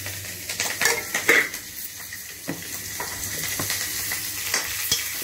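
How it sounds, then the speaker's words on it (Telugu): Biryani ingredients, including mustard seeds and dry ginger, fry and sizzle in a pan while a utensil stirs them. Scraping and clattering of metal recur throughout at close range, with no talk. "ఇవన్నీ మంచిగా ఫ్రై చేసుకోవాలి"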